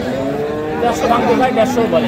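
A dairy cow lows a few times, drawn-out moos rising over a steady murmur of crowd chatter at a busy open-air cattle market in Ambari.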